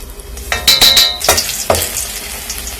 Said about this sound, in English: So now here is where the remaining garlic comes in.